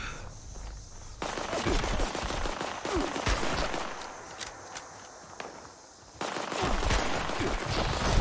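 Enemy gunfire in the video game Fallout 76, with sustained rapid shooting in dense bursts that break off briefly and then resume, fairly loud and continuous.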